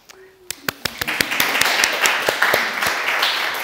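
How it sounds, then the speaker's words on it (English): Audience applause for gold and silver award winners at a small business awards evening, sharp individual claps building quickly into sustained, fairly close clapping from a crowd. "you all deserve a massive round of applause"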